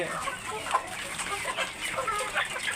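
Australorp and local hens on a small urban poultry farm cluck and chatter continuously at close range, with overlapping calls and no talking.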